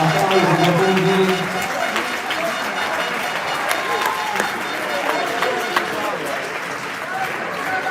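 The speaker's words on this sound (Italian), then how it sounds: "Fine della seconda ripresa, applausi per tutti." A crowd at an Olympic boxing event applauds at the end of the second round with steady, dense clapping, with voices mixed in over the noise.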